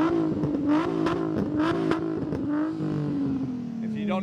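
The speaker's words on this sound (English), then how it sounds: "If you don't know what that sound is, that is a VQ" Nissan VQ engine in a Z33 Fairlady at a busy car meet in Japan, revving with a rising and falling rasp, loud and nearby, with crowd voices and clatter underneath.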